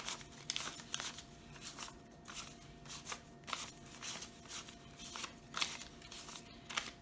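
Paper cash bills are counted out by hand for a grocery envelope, giving a run of quick, close, crisp flicking and rustling strokes in a fairly even rhythm without any talking.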